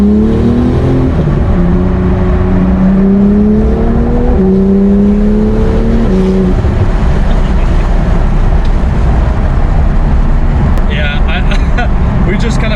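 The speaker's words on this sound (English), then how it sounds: "very unique exhaust tone" Twin-turbo flat-six exhaust of a 2018 Porsche GT2 RS, loud and close, with rising engine tones climbing through several gear changes, then a sustained roar as the car pulls onto a highway.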